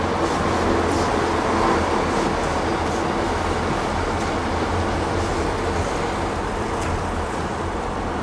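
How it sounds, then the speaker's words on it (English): Channel Tunnel shuttle train rumbling steadily throughout, a continuous low rail-car drone with wheel noise and no speech. "Which, here's a train."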